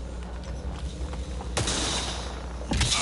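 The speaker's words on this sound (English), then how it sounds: "I have no idea what you're shooting at me." Bursts of gunfire crack out in Mass Effect Andromeda gameplay, with a sharp volley striking about halfway through and another near the end over a steady low rumble.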